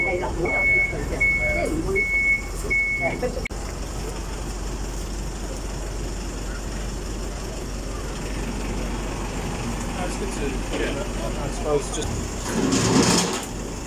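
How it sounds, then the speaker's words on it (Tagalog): Tow truck backing up to haul away a car with a dead battery: a repeated high reversing beep pulses for about three seconds, then a low engine rumble and road noise carry on with a brief clatter near the end. "Hihilain nila tong sasakyan."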